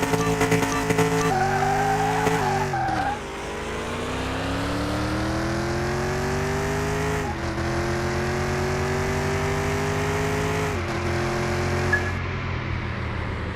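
Engine note of a car in the video game CMS 2021 rising and falling through gear changes on a track, with a long sustained tone suggesting wheel spin, loud and continuous with no talk.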